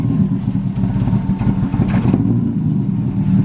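A loud JDM car on a test drive, back on the road after sitting for about a year, rumbles and revs steadily up close with rough mechanical clatter and a brief rise in engine note.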